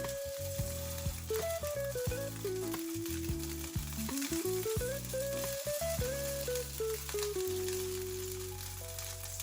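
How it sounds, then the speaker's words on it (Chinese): A chicken breast patty pan-fries slowly in a little oil on low heat, giving a soft, continuous sizzle. Background music with shifting melodic tones runs steadily over it the whole time. "小火少油，慢慢的煎"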